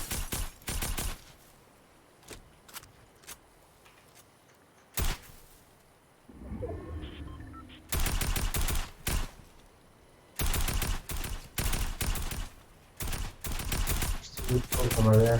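Assault rifle gunfire in a video game, several loud bursts of rapid automatic shots separated by quiet gaps, with brief faint sounds between volleys.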